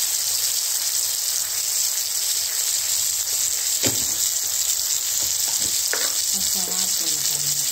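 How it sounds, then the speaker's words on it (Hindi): Chopped tomatoes hitting a hot pan for poha, giving a steady broadband sizzle throughout with a few brief stirring clatters and faint background sounds over it. "कटे हुए टमाटर डाल देंगे।"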